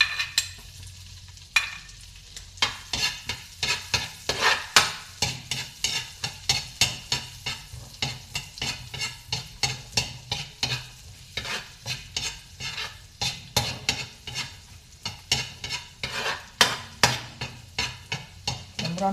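Garlic frying in melted butter in a pan, a steady low sizzle broken by frequent sharp scraping and clattering stirs that repeat in a quick, uneven rhythm close by, with no talking.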